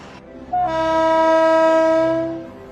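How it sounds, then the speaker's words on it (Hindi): Coal-laden freight train on its tracks, with a long loud horn blast sustained for about two seconds over low rumbling, close and dominant. "पटरियों पर दौड़ती कोयले से लदी यह रेलगाड़ी देश के बिजली घरों को रोशन करने चल पड़ी है"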